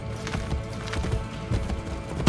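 Horse hooves clip-clop in a steady trotting rhythm in Assassin's Creed Brotherhood video game, fairly loud and close, with no talking.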